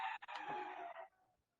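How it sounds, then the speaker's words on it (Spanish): A rooster crows once in a long, strained call lasting about a second, fairly clear and close, then trails off into quiet. "Ya se despertaron los gallos"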